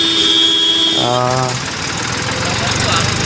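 A loud, close engine rumbles steadily, with a brief tonal hum near the start before the rough running noise takes over.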